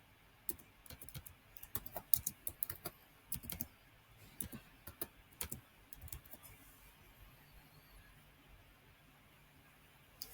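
Computer keyboard keys tapped while entering a search into a search bar, a quick irregular run of light clicks that thins out toward the end, fairly quiet with no voice.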